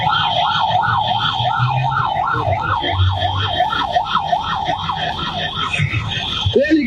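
A wailing ambulance siren rises and falls in a steady repeating cycle, loud and continuous for several seconds over low background rumble, with a brief sharp sound at the very end.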